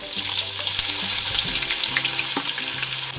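Cumin, mustard seeds and finely chopped onion frying in hot oil in a kadhai, a loud continuous crackling sizzle with occasional spatters, close by and alone.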